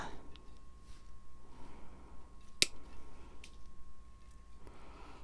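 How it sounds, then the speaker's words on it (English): Ironwood cutters snip the thorns off a potted plant with a single sharp, close snip. Faint rustling and handling noises sit around it under a steady low hum. "I'm going to take my ironwood cutters, and all I'm going to do is snip the thorns off"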